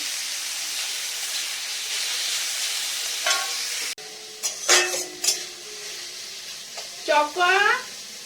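Snake gourd frying in a pan gives a steady hiss that stops abruptly partway through, followed by short clattering knocks and a voice speaking near the end.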